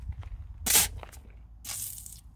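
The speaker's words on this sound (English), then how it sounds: "So spray port hose." Water hose from the spray port of a Lance 2212 toy hauler camper, spraying in two short hissing bursts with a brief quiet gap between them, close and fairly soft.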